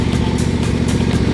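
A Smartool Pro TTM2108SH ride-on lawn tractor's engine, started with the key, running loud and close with a steady throbbing putter and no talking.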